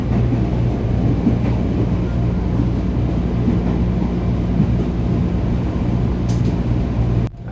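From inside a KRL commuter train as it slows on the approach to the eastern terminus, a steady low carriage rumble with a faint hum runs evenly, then cuts off abruptly near the end.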